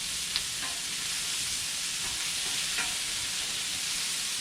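Sausage, peppers and onions sizzle and crackle steadily on a hot Blackstone griddle, a continuous close frying hiss with a few soft scrapes of stirring and no talk.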